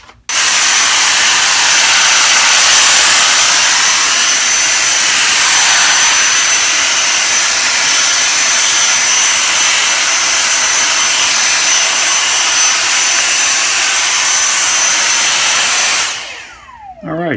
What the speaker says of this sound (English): We'll get the vacuum, and we'll vacuum up all the metal flakes